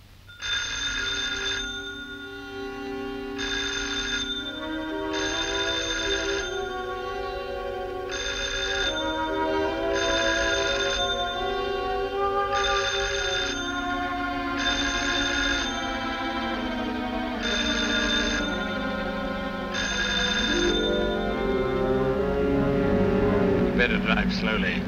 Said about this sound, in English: I can hear it ringing.